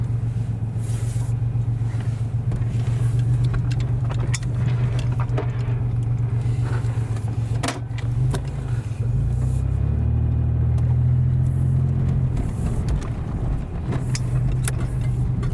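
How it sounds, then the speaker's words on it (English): A 1996 Pontiac Grand Prix with a 3.1 V6 and rusted-out mufflers drives along, its engine a steady low drone from inside the car, rising briefly under acceleration before easing back. "I'll drive it around for a little bit."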